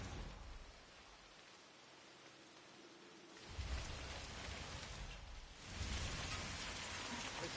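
Steady rainfall in the video game Hitman 3, a continuous hiss of drops on surfaces that quiets briefly in the middle before swelling louder again, with no voices.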